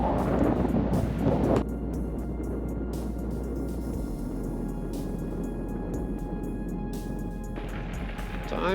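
Wind rushing past while bikepacking through the Australian outback, a constant close roar with heavy low buffeting on the microphone, louder at the start.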